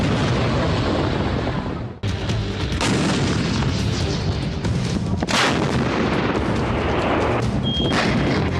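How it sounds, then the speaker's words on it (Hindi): Loud, continuous fire from a Dhanush howitzer, with repeated heavy booms and blasts rolling together, dense and close, with no pauses. "धनुष 1 घंटे में 42 राउंड फायर कर सकने में सक्षम है"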